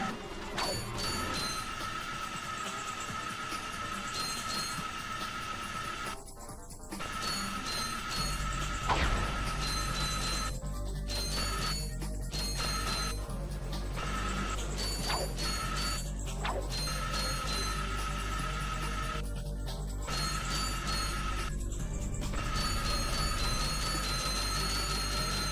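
Metallic grinding on rails in the Ratchet & Clank video game hums loudly and continuously, layered with clanking, ratcheting game effects and background music.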